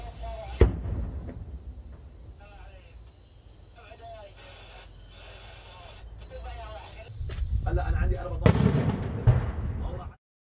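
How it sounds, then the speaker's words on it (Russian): Mortar shells explode during heavy shelling at a bus station in Syria, heard as sharp distant bursts and a rumbling, rising roar toward the end. Someone narrates over them. "Но возобновляется интенсивный минометный обстрел."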